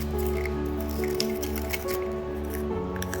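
Liquid fusion glue mixed with yellow sand being squished and worked for a craft piece, a close, continuous wet squelching and gritty smearing with small drip-like ticks, no talking.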